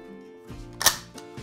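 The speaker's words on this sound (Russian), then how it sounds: "взвести затвор" The bolt of a Tokyo Marui M4A1 gas blowback airsoft carbine is pulled back and released, giving a sharp metallic clack amid a few softer mechanical clicks, close and quiet otherwise.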